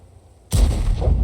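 A heavy tank cannon shot in World of Tanks, one sudden loud close boom after a quiet moment, followed by a rumbling decaying blast that fills the rest of the moment.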